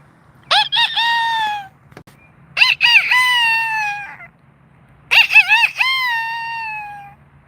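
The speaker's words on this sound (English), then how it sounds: "The roosters are making noise." Roosters crow three times in a row with loud, close, drawn-out calls separated by short pauses, over faint background hum.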